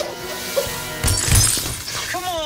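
Glass shatters in a sudden bright crash during an animated Ben 10 game scene, with voices talking around it.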